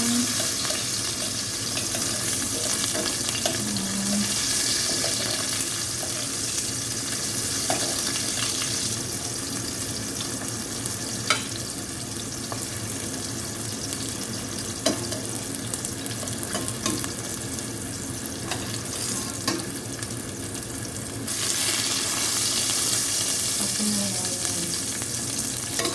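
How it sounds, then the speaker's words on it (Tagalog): Chopped onion sizzles steadily in a hot pan for an Arabian maqlooba, with occasional stirring clinks and splashes over a continuous frying hiss, close and fairly loud throughout. "I fried the onion"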